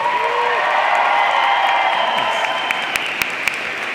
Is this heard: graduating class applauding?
yes